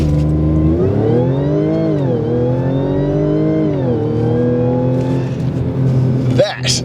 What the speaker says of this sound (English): 0 to 100 k's an hour in 4 seconds flat, and boy does it make an absolutely sensational noise while doing it